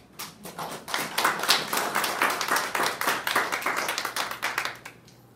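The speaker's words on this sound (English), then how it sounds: "I would appreciate if you give yourself a round of applause." A workshop audience applauding, a burst of many hands clapping close by that swells quickly, holds for several seconds and then tapers off to quiet.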